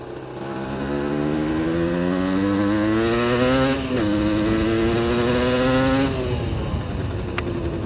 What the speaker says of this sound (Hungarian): A Sport kipufa miatt fog szólni.